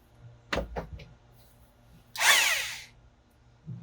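A Black & Decker Bulldog power drill runs in a couple of short, sharp bursts, then a louder whirring spin of about a second, close by in a quiet space, during work on a MerCruiser Alpha One stern drive.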